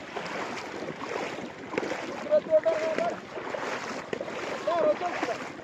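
Water splashes and churns steadily as a horse wades across the Patranga river, carrying riders through the current, with people talking over the rushing water throughout.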